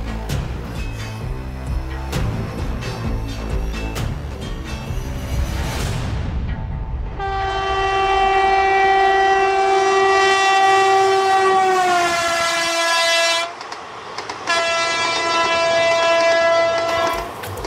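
A train rumbles past at close range, its clattering wheels giving way to a long, loud, sustained horn blast that stops briefly and then sounds again.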